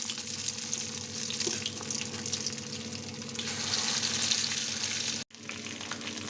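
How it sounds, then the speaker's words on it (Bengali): Marinated chicken pakora pieces, seasoned with black pepper and chili powder, fry in hot oil in a kadai, giving a continuous bright sizzle that stays steady and cuts out abruptly just before the end. "এবার কড়াইতে তেল দিলাম, তেল গরম হলো, এবার মাংসগুলো ছেড়ে দিলাম।"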